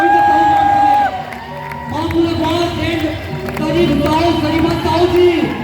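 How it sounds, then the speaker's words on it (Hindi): A crowd at a public event claps and cheers for arriving guests, including a municipal council chair, while an announcer's voice and shouts ring over the noise. "तो एक बार जोरदार तालियां होनी चाहिए।"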